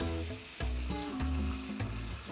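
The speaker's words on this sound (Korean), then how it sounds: "와 지글지글. 제대로 익었어요." Pork belly sizzles loudly in a frying pan, a dense continuous crackle and hiss close up, with the pan shifting and stirring at intervals.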